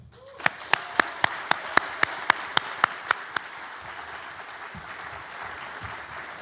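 About a dozen sharp, evenly spaced claps ring out in steady unison rhythm over a soft crowd murmur at a business school graduation ceremony, then the clapping stops.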